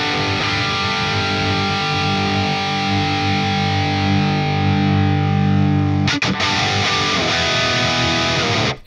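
Distorted electric guitar played through a MIKKO speaker with the mix fully up: loud, bright, biting sustained chords ringing out, then a quick re-strum and a few more held chords.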